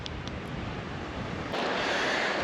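Ocean waves washing onto a beach of sand, shells and driftwood at night, a continuous broad roar of surf that swells slightly louder partway through, with no voices.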